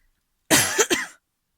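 A single sharp human cough, close and loud, breaking into two quick bursts before stopping, alone in otherwise silent surroundings.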